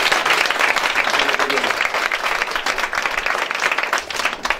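A church congregation breaks into loud, sustained applause to acclaim the Lord, dense clapping filling the room, with voices mixed in among the claps.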